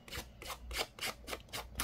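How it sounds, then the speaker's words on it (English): Fabric scissors rough up the edge of a paper journal cover with a steady series of about seven quick, close rasping snips in a quiet room with no talk. "Using the fabric scissors."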